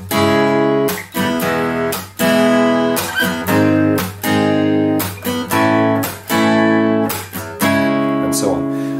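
Rhythmic guitar strumming over a chord progression with one bar per chord, steady repeated down and up strokes with brief pauses between bars, loud and near with no speech.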